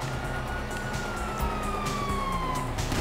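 A police siren in a video game wails from a distance, its tone sliding slowly downward under a rumbling backdrop of traffic and scattered game noise.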